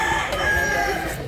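A gamefowl rooster, a running bullstag, crows once in a long drawn-out call, close and loud, with faint speech underneath.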